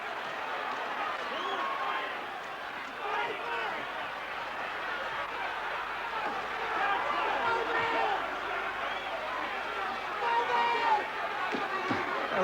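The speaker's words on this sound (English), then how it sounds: "the crowd acknowledging that punch from Spinks." A packed arena crowd at the Michael Spinks versus Larry Holmes boxing match reacts to a punch, a dense, continuous roar of mingled voices and chatter that holds steady and swells slightly toward the end.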